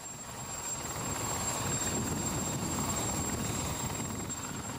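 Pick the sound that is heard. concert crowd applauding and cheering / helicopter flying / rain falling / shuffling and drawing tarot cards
helicopter flying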